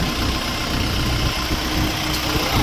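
A Jinma 404 four-cylinder, four-wheel-drive mini tractor engine idles steadily close by, a constant low chugging rumble with mechanical rattle and no talking.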